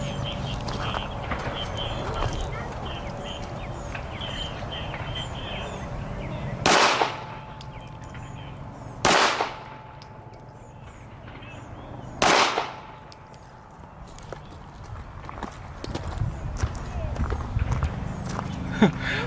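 Springfield Armory Hellcat Pro pistol fired at an outdoor range, three sharp shots spaced a few seconds apart over steady background noise and faint voices.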